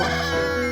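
A rooster crows loudly and close by, one short burst of the call.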